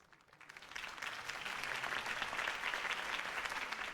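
A crowd bursts into applause after Harvey Dent's campaign speech in Batman: The Telltale Series, rising from quiet to sustained, dense clapping that holds steady to the end.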